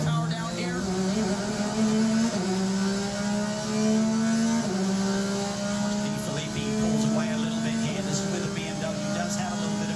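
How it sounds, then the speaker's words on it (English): A race car runs downhill through the roller coaster section at Virginia International Raceway, its engine droning loud and close with the pitch climbing and dropping at several gear shifts across the run. "Listen to this car start driving downhill."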